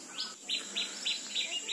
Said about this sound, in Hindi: चिड़ियाओं की मस्त चहचहाट आपको सुनाई दे रही होगी